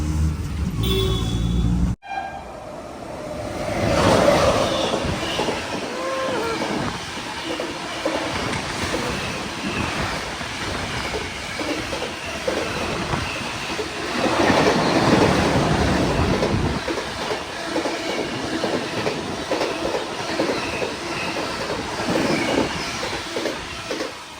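A Mumbai local train rumbles past at Mira station with rhythmic clickety-clack from the wheels and occasional metallic squeals, loud and continuous, rising and falling in intensity.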